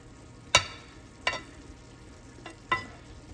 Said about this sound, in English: They're simmering in that nice butter and their own juices.